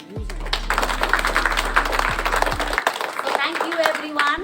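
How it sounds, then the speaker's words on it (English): Applause from an audience at a school science exhibition, a dense spread of many hands clapping that holds steady and moderately loud for several seconds, with a low hum beneath the first part. "please give a huge round of applause"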